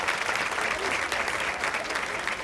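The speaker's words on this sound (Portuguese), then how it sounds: "Vamos aplaudir o pastor Eduardo." A church congregation applauds a pastor during a service marking 170 years of Congregationalism: steady, dense clapping from many hands fills the room at an even level throughout.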